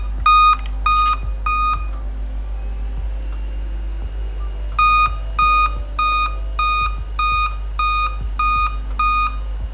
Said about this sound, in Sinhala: මම ස්පීකර් එක කනෙක්ට් කරගන්නවා මේකේ බීප් එක අහගන්න.